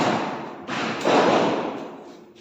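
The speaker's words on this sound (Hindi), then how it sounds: "कुछ बच्चे पटाखा फोड़ रहे हैं" Firecrackers set off outdoors by children, heard as a few dull thumping bursts that swell and fade over a couple of seconds, somewhat distant and muffled, with no talking.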